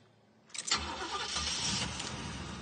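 A Chevy car engine cranks with the key and catches quickly, then settles into a steady, close idle without any throttle blip.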